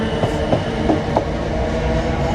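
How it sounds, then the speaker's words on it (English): A red South Western Railway passenger train rumbles past close by in London, a loud steady roar with rhythmic clacks of wheels over rail joints. "We've got another South Western Railway red train."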